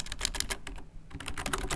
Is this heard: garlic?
no